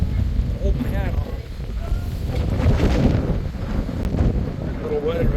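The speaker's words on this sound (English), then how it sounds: "We're experiencing some pretty strong wind right now." Strong gusty wind at Seminole Canyon, Texas, roars and buffets the microphone continuously, loud and close, with someone speaking briefly over the rumble.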